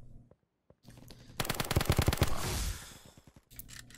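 A SCAR rifle fires in the Kirka.io shooter game: a fast, rapid burst of automatic gunfire after a few quiet clicks, followed by fainter shots and game noise.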